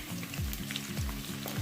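Ginger and garlic tempering frying in oil in a pan, a steady crackling sizzle with faint stirring clicks and scrapes, fairly quiet and close.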